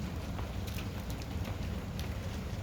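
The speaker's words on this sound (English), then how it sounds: "do I hear rain? It's raining now. It just started raining." Rain falling outdoors at the start of a thunderstorm, a steady, fairly quiet broadband hiss of drops that holds evenly throughout with no speech over it.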